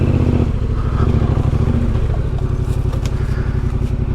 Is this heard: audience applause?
no